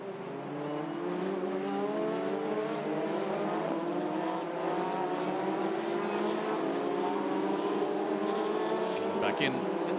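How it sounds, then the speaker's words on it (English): Formula Renault Eurocup race cars run in a pack behind the safety car at the Hungaroring, a steady layered engine drone with rising and falling tones, while a commentator talks over it. "As the safety car continues to lead the pack around."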